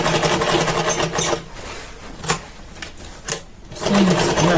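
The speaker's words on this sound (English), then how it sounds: "I'll sew it round now." A sewing machine stitches around a zippered pocket, fast rattling bursts at the start and end with short pauses and light clicks between, close and fairly loud.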